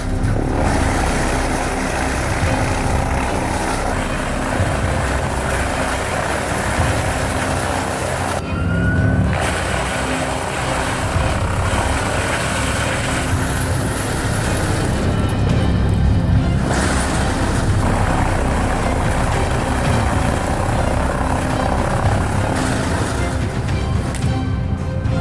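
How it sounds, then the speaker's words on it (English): A double shaft wood shredder chews through wood with a loud, continuous grinding roar and heavy mechanical rumble. There are brief dips and crunching surges along the way. "This is the double shaft wood shredder in action."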